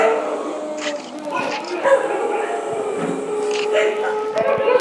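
Several dogs in the game Minecraft bark and yip in a busy, layered mix, with someone talking over them throughout.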